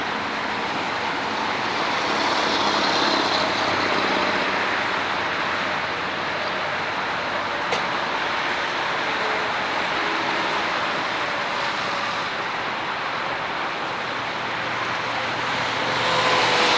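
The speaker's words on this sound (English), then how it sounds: "A lot of morning traffic." Morning road traffic near a motel, a continuous broadband rush of passing vehicles, steady and fairly loud, swelling slightly at the end, with no talk.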